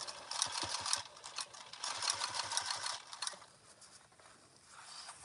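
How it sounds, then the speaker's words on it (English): A sewing machine stitching the last corner of a tote bag: a rapid mechanical whirring hum in two bursts, with a pause, then quieter handling at the end, close and alone. "we're sewing that last little bit"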